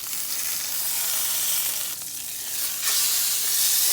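Beef for a pot roast sears in a hot pot, giving a loud, steady hissing sizzle that swells and dips slightly as the meat is moved, close up with no talking.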